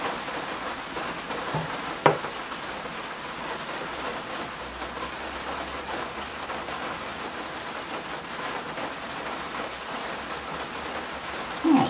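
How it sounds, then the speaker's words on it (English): Heavy rain falls outside as a steady, even hiss with a couple of faint knocks, continuous throughout, with no talking. "It's raining quite hard out now."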